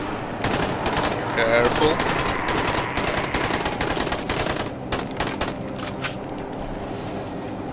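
Bursts of gunfire in the zombie game Dying Light, rapid stacked shots with sharp cracks in uneven clusters, loud and near, while a voice speaks briefly over the shooting.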